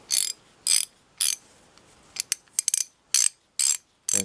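An SK half-inch drive ratchet clicks in short, crisp bursts of pawl chatter, about ten quick runs separated by brief pauses, close and clear with no talking.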